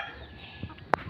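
One short, sharp cluck from a family chicken stands out against a quiet outdoor background, close and brief.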